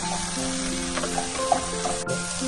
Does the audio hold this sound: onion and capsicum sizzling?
yes